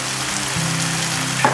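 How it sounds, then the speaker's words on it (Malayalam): Soy sauce bubbles and sizzles in a hot pan while gobi manchurian cooks, giving a continuous close frying hiss with a brief clink near the end. "അപ്പോൾ നമ്മുടെ സോയ സോസ് നല്ലോണം തിളച്ചിട്ടുണ്ട്"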